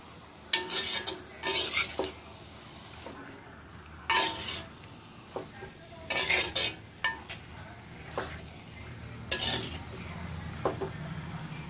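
Chicken pickle spices fry in a black clay pot as a spoon stirs them, with intermittent scraping strokes and soft clinks against the pot over a faint steady sizzle, close and fairly quiet.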